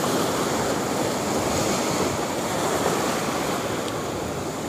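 Sea waves washing onto the beach at St Mary's Island near Udupi: a constant broad surf wash with wind noise on the microphone, steady and fairly close, with no voices.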